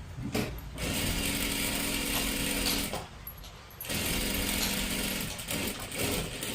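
Sewing machine running in steady bursts while double-stitching a salwar seam, a continuous mechanical whir near the mic with two short pauses between runs.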